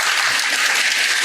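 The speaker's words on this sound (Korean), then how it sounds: "두 분께 다시 한번 박수 부탁드립니다." Seated attendees at a finance and real estate event, the Seoul Money Show, give a short round of bright, even applause with no voices over it.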